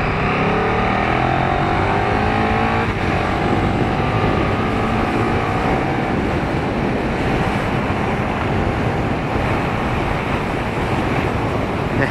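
A 2017 KTM Super Duke GT motorcycle rides at highway speed, heavy wind rush buffeting the microphone over the engine's drone, steady and loud for the whole stretch with no talking.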